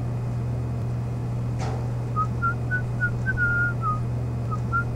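Someone whistles a song as a short run of thin, fairly faint notes over a constant low electrical hum, with one brief knock partway through.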